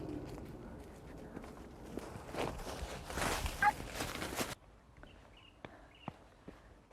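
A chicken is chased and grabbed by hand on an open hillside: a few seconds of hurried scuffling footsteps and rustling, with faint fowl noises, then the scramble stops and only scattered light taps and clicks remain.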